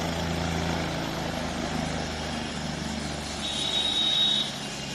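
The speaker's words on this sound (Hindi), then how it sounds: "एक और हेलीकॉप्टर है, वो भी आ रहा होगा," A helicopter flies near Kedarnath, its engine and rotor making a steady, loud droning rumble that holds throughout and swells slightly toward the end.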